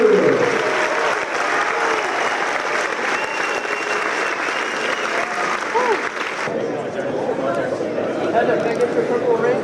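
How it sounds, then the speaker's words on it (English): A Comic-Con panel crowd in San Diego applauds steadily and densely, with cheers and voices mixed in, and the roar eases slightly partway through but keeps going throughout. "Give a round of applause to Miss Heather Donahue."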